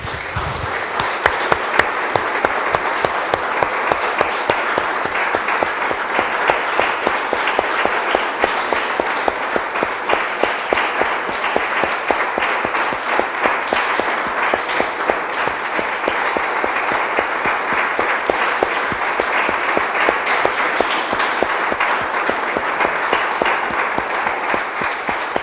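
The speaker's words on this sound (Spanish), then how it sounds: "Damos un aplauso, hermanos, al Señor." A church congregation claps together in steady, continuous applause, loud and close, with no voices over it.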